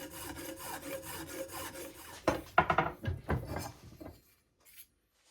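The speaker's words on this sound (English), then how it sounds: "I use my coarse file to file them down to the line and to make them look smooth and nice." A coarse hand file rasps across the cast fins of a Kawasaki Z1 motorcycle cylinder barrel in steady repeated strokes, then a burst of heavier, uneven strokes before it stops. The filing is close and alone.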